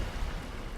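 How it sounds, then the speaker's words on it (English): A magic rain spell in Divinity Original Sin 2, a steady hiss of falling rain with a dense, even patter that fills the whole short moment without any talk. "Shall I make it rain?"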